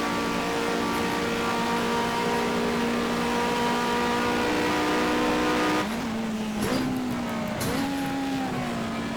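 A racing car engine in the rFactor video game drones loud and constant with a strong tonal whine, then its pitch dips and jumps near the end as the car shifts and brakes.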